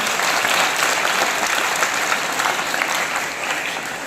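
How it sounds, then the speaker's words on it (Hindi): Sustained applause from an audience at a school retirement ceremony welcoming guests, dense and even throughout, fairly close and loud, with no talk over it. "तालियां बजा के अभिनंदन करें"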